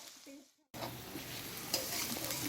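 A brief faint tone, a moment of silence, then garlic sizzling steadily in hot oil, close and fairly loud.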